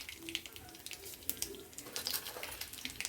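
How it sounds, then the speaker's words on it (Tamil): Mustard seeds spluttering in hot oil while tempering for vermicelli kichidi, a faint, steady crackle of small pops heard up close with no talking. "கடுகு நல்லா வெடிக்கிறது"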